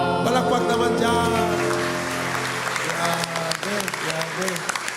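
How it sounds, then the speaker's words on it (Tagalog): A church congregation applauds at a 42nd anniversary service after a hymn, several seconds of dense clapping that starts over the song's closing sustained chord and continues as the music fades. "Palakpak naman dyan."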